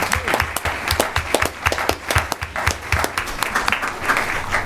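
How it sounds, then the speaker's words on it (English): An audience at a Union County commissioners meeting in Linden claps in a burst of lively, sustained applause for students, many hands clapping together throughout. "Can we give another big round of applause to all the students here tonight?"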